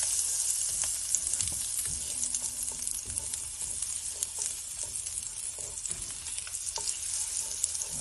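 Butter sizzling and frying in a pan for fried rice, a steady crackling hiss with occasional stirring scrapes, close and continuous with no talking.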